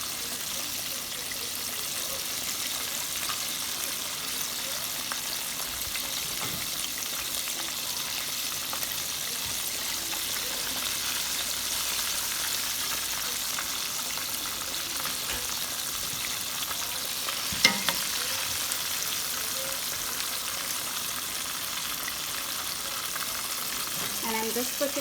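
Chicken frying in oil in a home kitchen, a continuous crackling sizzle with faint bubbling, steady throughout, with a brief clack and occasional handling noises.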